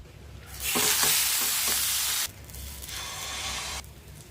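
Chickpea dosa batter hitting an oiled pan: a loud hissing sizzle bursts in with a few scraping strokes, cuts off abruptly, then a softer second sizzle follows before fading, close up and without speech.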